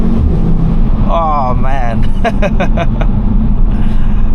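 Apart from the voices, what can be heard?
Audi RSQ3 five-cylinder engine while driving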